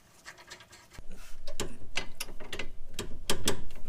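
A ratchet tightening the stabilizer link nuts on a Mazda 5, rapid pawl clicking in repeated bursts of strokes, close and loud, with no one speaking.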